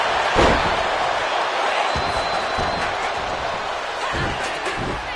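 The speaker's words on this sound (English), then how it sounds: "And this crowd is loving every second of it." Arena crowd in the WWE 2K26 wrestling video game cheering loudly and continuously through a women's match, with sharp slams and impacts from the ring breaking through the steady roar.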